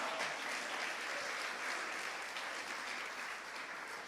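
A church congregation applauds steadily, a dense wash of clapping that holds evenly for several seconds with no voices over it.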